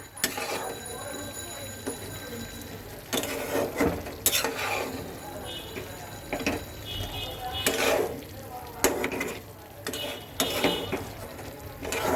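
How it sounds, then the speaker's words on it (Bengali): Desi chicken cooked with a paste of mixed nuts and a spoonful of cumin powder, sautéed in a pan while a spoon stirs and scrapes, with clanks against the pan over a steady sizzle and no talk. "আমি মিনিমাম এটাকে আর পাঁচ মিনিট কষাবো"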